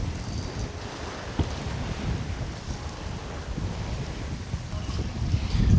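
Steady wind of around 16 knots buffets the microphone on Chesapeake Bay, a constant rushing roar with occasional thumps and the wash of waves around a moving sailboat.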